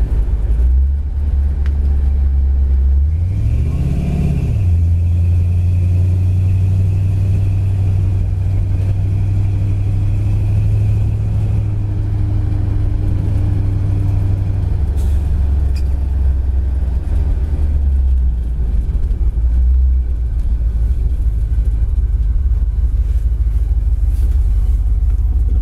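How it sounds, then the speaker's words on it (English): Restomod 1970 Ford Mustang Fastback idling steadily and loud up close, with a steady low rumble, one brief rev early on, and no talk. "Car seems to idle well."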